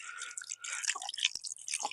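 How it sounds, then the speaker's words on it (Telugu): Shankar fish being rubbed and rinsed by hand in a bowl of lightly salted water, with close, continuous wet squelching, dripping and sloshing and a brief sharp knock midway; no one speaks. "వీటిని అయితే ఫస్ట్ కొద్ది వాటర్ ఉప్పు వేసేసుకొని నీట్ గా కడిగేసుకుందాం"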